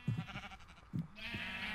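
Sheep in the video game Minecraft bleat twice, short nasal calls a second apart, fairly quiet against a steady electronic game hum.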